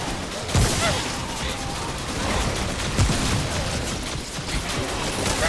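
Automated turret firing during a boss fight in the game Remnant: From the Ashes, a dense clattering mechanical rattle that runs steadily beneath a loud, busy mix of combat noise.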